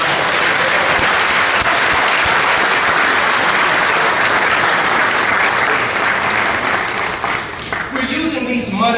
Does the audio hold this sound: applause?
yes